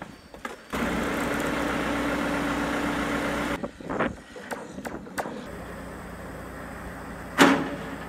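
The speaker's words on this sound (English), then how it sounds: "I'm gonna hop in the telehandler." A farm telehandler's diesel engine idles nearby, a steady rumbling drone for a few seconds that then cuts out, followed by scattered clunks and knocks around the yard.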